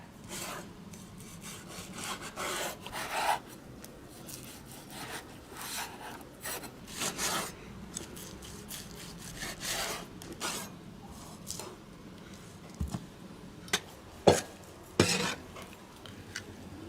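A large snakehead fish is sliced into fillets with a knife on a cutting board, giving a run of scraping, rasping strokes with sharper knocks and clicks toward the end, close by and with no talking.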